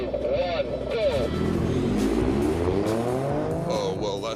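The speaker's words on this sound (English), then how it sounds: "The twin turbocharged V6 engine in this thing" Alfa Romeo Stelvio with a twin-turbocharged V6 accelerating hard from a race start, engine roaring loud and continuous with rising revs and a brief tire squeal, under excited commentary.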